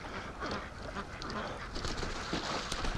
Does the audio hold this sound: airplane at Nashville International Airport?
no